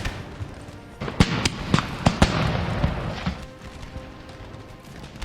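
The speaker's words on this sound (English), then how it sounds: "Oh, the enemies are actually returning fire over here." Scattered musket volleys from enemy troops in the game Empire Total War at an Indian fort, a handful of sharp cracks clustered over a few seconds against a low battlefield rumble.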